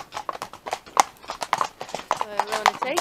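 Horse hooves clip-clop in a brisk rhythm on a Christmas guided fun ride at a riding farm, close and clear under steady conversation between riders.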